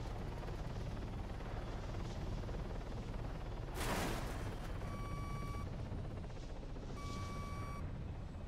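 Steady loud rotor and turbine roar of a helicopter gliding in engine-out autorotation in the ARMA 3 military video game, with a swelling whoosh midway and intermittent warning tones.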